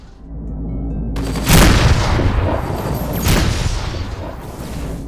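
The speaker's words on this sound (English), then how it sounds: "Missile away." A spacecraft missile fires and explodes in the space combat game Rebel Galaxy Outlaw, a loud whooshing launch followed by a booming blast and a second heavy roar, with no voices.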